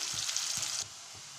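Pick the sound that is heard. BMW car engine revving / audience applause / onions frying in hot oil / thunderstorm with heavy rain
onions frying in hot oil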